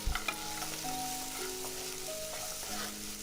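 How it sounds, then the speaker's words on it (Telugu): Cashews and almonds frying with onion and capsicum in a pan over low heat, a steady close sizzle with a few stirring knocks at the start. "ఇప్పుడు జీడిపప్పు బాదం వేసి అవి కూడా ఫ్రై చేయండి."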